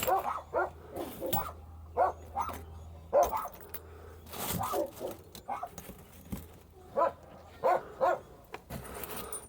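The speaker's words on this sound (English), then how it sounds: "Dog's got to find something to bark about." A dog barks repeatedly outdoors on a Missouri homestead at moderate distance, giving irregular bursts of sharp barks and yips with short pauses between them.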